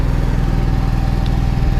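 Generator running in the cargo compartment of a 2016 Coachmen Mirada 35BH motorhome, a loud, steady, close engine drone with a rapid pulsing rhythm and no talk.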